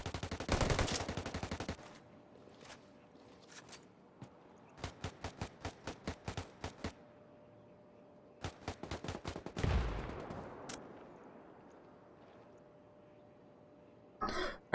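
Rifle gunfire and mortar strikes in the Ghost War video game: sharp bursts of rapid shots in clustered volleys, a heavy booming impact near the middle, quiet gaps between, and a final burst at the end; no speech.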